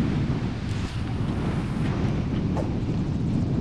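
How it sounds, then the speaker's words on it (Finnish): Steady wind buffets the microphone on a lake during pike fishing in Kainuu, Finland, a constant broadband roar with no voices. "Nyt tuulee kyllä."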